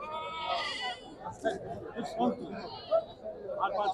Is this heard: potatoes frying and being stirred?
no